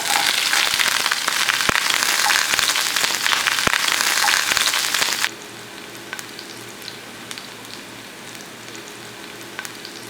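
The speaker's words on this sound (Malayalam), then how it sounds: "കാൽ ടീസ്പൂൺ ഉലുവ ഇടുകയാണ് നമ്മൾ അരിഞ്ഞെടുത്ത ചുവന്നുള്ളി ഇതിലേക്ക് ഇടുകയാണ്" Fenugreek seeds and chopped shallots dropped into hot oil for tomato rasam, after mustard seeds, crackling with sharp pops over a loud sizzle that abruptly drops to a quieter hiss midway.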